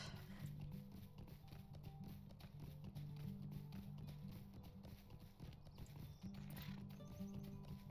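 Steady, rapid hoofbeats of a running horse in the online game Lord of the Rings Online, continuous and moderately close, with no voices.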